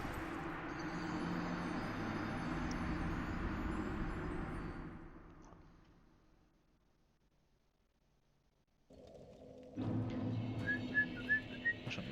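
A person whistles a short, bright tune of separate notes near the end, after a dense rumbling stretch of game audio fades to near silence and then swells back loudly.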